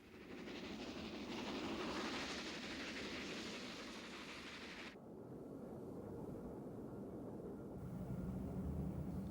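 A steam locomotive train runs steadily with a broad rumbling roar and faint rail rattle, fairly constant in level and dropping slightly in brightness midway.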